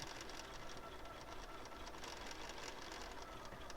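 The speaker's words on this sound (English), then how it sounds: "I'm just going to sew right along this edge again, using my stiletto to sort of feed it in." A sewing machine stitching along the edge of minky fabric, giving a steady, fast mechanical whir with a rapid rhythmic needle pulse, close and continuous with no talking.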